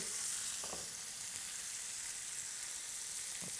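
Meat sears to a golden brown in a hot pan, making a steady, fairly faint hiss with a couple of brief taps and stirs and no voices.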